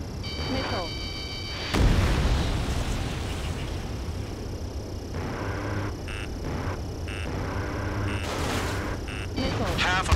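Missile strikes in Ace Combat 7: Skies Unknown, with a heavy explosion boom followed by rumbling blasts and layered game effects and alert tones, while voices speak over the action.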